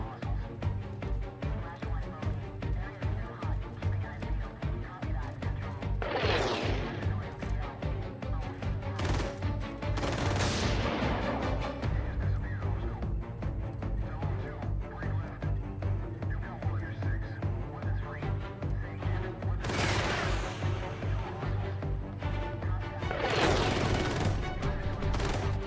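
Missile launches in the strategy game Xenonauts 2, several whooshing rising bursts over a steady pulsing engine drone, moderately loud and spaced a few seconds apart, with no talking.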